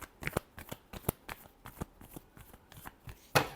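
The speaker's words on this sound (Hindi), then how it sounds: "Last shuffle." Tarot cards being shuffled by hand produce a rapid series of crisp riffling snaps and flutters, close and fairly loud, ending in a sharper burst.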